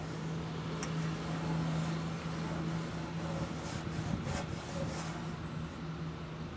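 Baking soda fizzing in acid inside a long-unused generator's tank gives a soft, steady hiss and crackle throughout, fairly faint, with a low hum running underneath and no talk.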